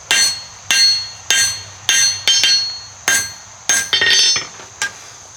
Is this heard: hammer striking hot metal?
yes